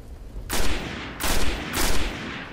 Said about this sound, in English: That was crappy shooting.